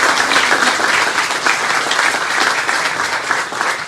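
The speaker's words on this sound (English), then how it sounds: "Let's give Louise another round of applause for joining us here today for this celebration." A crowd at the Crane Township bicentennial celebration applauds an honored guest, thick sustained clapping from many people that stays loud and even, with no one speaking.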